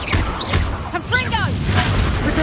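A fire spell cast with a short blast in the video game Hogwarts Legacy, a quick boom with whooshing, chirpy magical effects, heard under a shouted voice.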